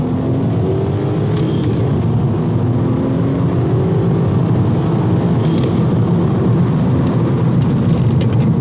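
A Volkswagen Golf R32 accelerates hard, its engine roaring steadily and loudly from inside the car, rising in pitch through a continuous pull with road noise underneath.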